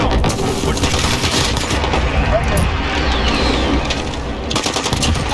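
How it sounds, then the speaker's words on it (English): Enemy precision airstrike in Modern Warfare on an HQ multiplayer map: dense, loud gunfire and heavy booming explosions pound continuously, with a voice calling out over the din. "Enemy precision airstrike. Get down."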